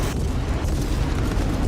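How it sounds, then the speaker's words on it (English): Four missiles fired from a turret in a video game give a dense, rumbling blast of booming bursts that carries loudly through the whole short stretch. "Let's fire 4 missiles right there."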